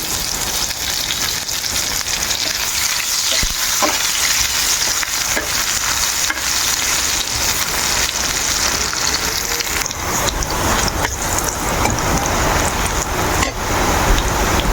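Onion sizzling in hot oil in a home kitchen pan, a steady dense crackling hiss that runs the whole time with occasional stirring clicks and scrapes, close and fairly loud with no voices.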